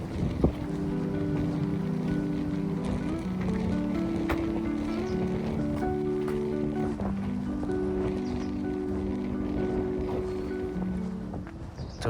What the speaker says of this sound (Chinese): 哇，好大风！